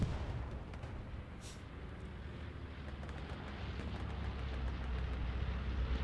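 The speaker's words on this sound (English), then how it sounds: "I think I hear a bombing run." Low, distant rumbling of a bombing run rolls continuously across the Omaha Beach map in a Hell Let Loose tournament match, a faint, steady roar of far-off explosions without distinct individual blasts.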